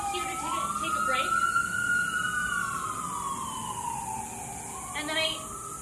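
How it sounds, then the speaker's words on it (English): A wailing emergency siren sweeps slowly up and down outside, loud and steady across the stretch, with a second siren tone and faint street noise beneath it. "I don't know if you can hear the sirens."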